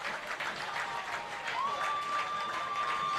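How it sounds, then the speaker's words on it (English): A high school football crowd at Rockwood versus Kingston cheers and applauds in front of the listener, a steady wash of clapping and shouts at moderate distance with a whistle-like tone sustained partway through. "And you get to hear this crowd"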